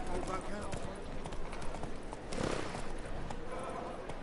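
Roach, a horse in The Witcher video game, gallops in a rapid, rhythmic clip-clop of hooves that runs steadily throughout, with a voice speaking over it.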